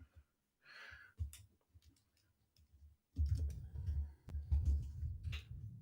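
Computer keyboard typed on right beside the microphone: sparse, faint clicks at first, then a denser, louder run of close keystrokes and clatter.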